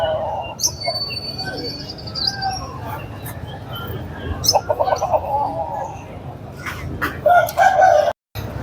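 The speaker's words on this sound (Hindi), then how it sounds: "ब्लैक मुर्गा ये भाई साहब का है।" A black Aseel rooster at a crowded rooster market in Lari Adda crows and clucks among other fowl, fairly near, over a busy background of market noise and faint distant voices.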